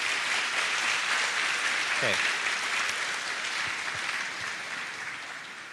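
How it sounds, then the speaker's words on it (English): An audience at the GDG DevFest Tashkent 2022 opening ceremony claps steadily and loudly, then the applause gradually fades toward the end while someone briefly speaks over it. "Applause, please."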